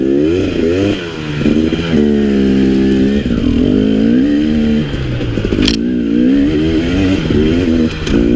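A 2017 KTM 300 XC two-stroke dirt bike climbing a trail uphill, its loud close engine revving and bogging through gear changes, with clattering bursts and a brief dip as the throttle eases.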